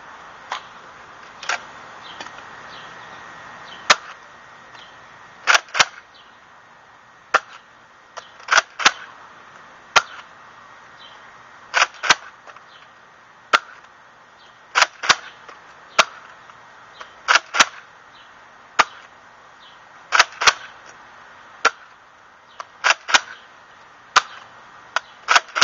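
Retaliator foam dart blaster fired during a range test with no barrel attached, giving a long series of sharp, loud snapping shots at irregular intervals, some in quick pairs, over a quiet background.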